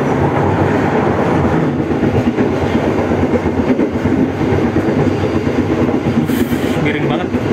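An economy-class passenger train with a baggage car speeds near Bekasi, its loud, steady rumble and clickety-clack of wheels filling the cabin, with a brief squeal toward the end.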